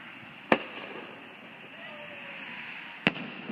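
Fireworks at an evening display in Saugatuck, Michigan boom twice, sharp and loud, about two and a half seconds apart over steady outdoor background hiss.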